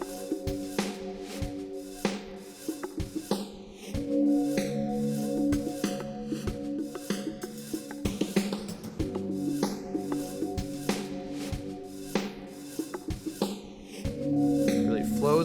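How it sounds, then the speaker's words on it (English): A lo-fi drum beat with crisp percussive hits and a sweeping, whooshing flange effect over tonal layers, steady rhythmic pattern throughout. "Flows with that flange effect"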